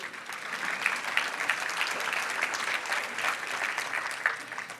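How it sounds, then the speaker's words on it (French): A church congregation applauds during a sermon, an even, moderate round of clapping heard from across a room, steady from start to finish with no speech over it. "Oui, on peut applaudir."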